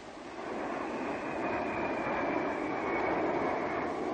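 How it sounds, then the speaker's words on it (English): A formation of Venom FB-1 jet fighters from Wattisham roars past at the RAF Coronation Review, a steady, loud, broad jet rush that swells in and holds for several seconds with no talk. "24 Venom FB-1s from Wattisham, led by Wing Commander Shaw"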